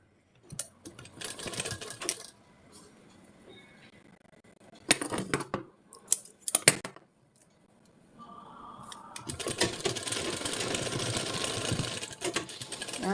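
A sewing machine runs over folded cotton blouse fabric, first in several short stitching bursts with quiet gaps between them, then in one long, steady stretch of close, continuous whirring.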